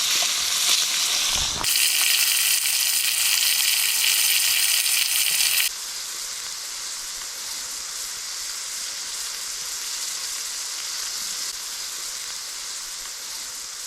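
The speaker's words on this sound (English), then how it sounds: "Sizzle." Food frying outdoors at a wild Scottish campsite, a steady close hiss and crackle of sizzling that keeps going, louder at first and then easing slightly, with no talk.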